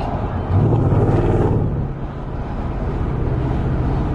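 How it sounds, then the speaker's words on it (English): A supercharged V8 engine in a high-mileage Range Rover L322 rumbles deeply and swells briefly as the throttle is touched, then settles into a loud, steady exhaust drone. "if I was to just touch the accelerator a little bit now"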